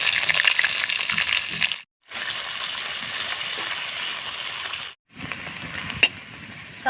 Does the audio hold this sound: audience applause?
no